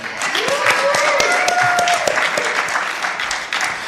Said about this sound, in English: Can we have a bit of a round of applause for them, guys?